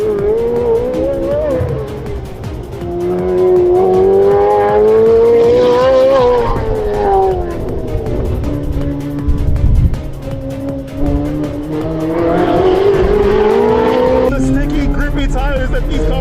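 A sports car on a race track, fitted with Forgedlite Magnesium MC5 wheels and Pilot Sport 4S tires, accelerates hard out of a corner in third gear. The engine note climbs and drops through shifts, loud and close, while the driver talks over it.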